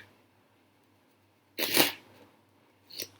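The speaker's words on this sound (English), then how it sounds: "So you let the participant shuffle the playing card" A deck of playing cards is shuffled by hand in one quick riffling burst, followed by a shorter flutter of cards, close and crisp against a quiet room.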